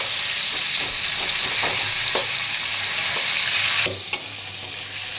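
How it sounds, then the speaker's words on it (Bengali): Tomatoes frying in oil in a pan for a vegetarian Bengali dish, just after asafoetida is added: a steady, close hiss of sizzling with soft stirring scrapes, which drops off abruptly near the end. "দেখো টমেটো দিচ্ছে, টমেটো ভাজছে।"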